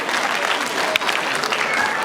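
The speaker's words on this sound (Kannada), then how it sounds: "ತಾವು ಕೂಡ ಹಾಗೆ ಚಪ್ಪಾಳೆಯ ಮೂಲಕ ಇದನ್ನು ಅನುಮೋದಿಸಬೇಕು" Audience applause at a Kannada cultural association's closing ceremony, a dense steady clatter of many hands clapping together, loud and continuous throughout.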